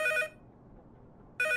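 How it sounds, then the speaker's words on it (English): Two bursts of a telephone bell ringing, loud and close, separated by about a second of near silence, with no voices. "And a phone ringing."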